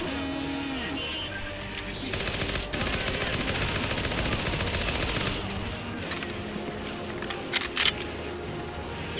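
Rapid suppressed bursts from a silenced MP5 submachine gun in the Far Cry video game, a dense stream of muffled clicking shots that runs nearly continuously with a few sharper cracks near the end, steady and fairly loud.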